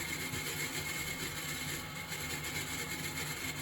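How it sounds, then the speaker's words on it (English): Motor of a Miele WS5073 professional industrial washing machine runs with a steady, continuous mechanical drone and whine, unchanging throughout, loud and close with no one talking. "The motor doesn't sound great at all."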